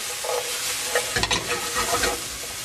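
Onions saute in extra virgin olive oil with a constant close sizzle, broken by a few soft stirring scrapes and clicks near the middle; no one speaks.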